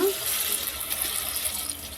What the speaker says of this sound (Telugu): ఇప్పుడు ఇంకా వాటర్ యాడ్ చేసేసుకుందాము